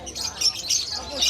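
Matured lutino opaline hen budgies and other pet birds at a crowded pet market in Malabon, chirping and tweeting in quick, bright bursts close by, with faint voices in the background.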